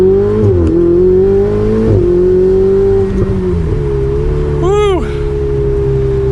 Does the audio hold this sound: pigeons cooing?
no